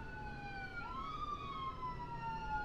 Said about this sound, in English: The emergency vehicles in America are so, they're ridiculous. They don't need to be that loud.